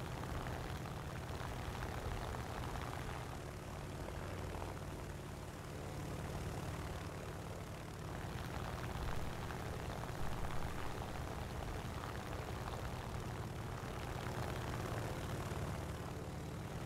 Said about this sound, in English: Enemy aircraft in the air.